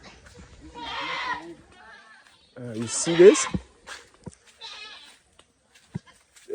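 Young goats on an African village farm bleat several times, loud and close, mixed with someone speaking nearby.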